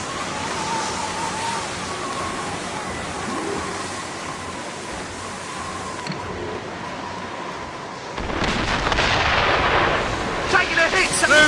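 Mortar and cannon fire booms during a naval battle in Assassin's Creed Rogue over rushing sea and wind, with shouting crew voices and a heavier, louder barrage breaking out near the end.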